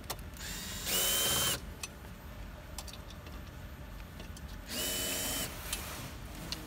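A power drill runs in two short bursts, about half a second each, loosening screws on a massage chair footrest, with light clicks and handling noise between.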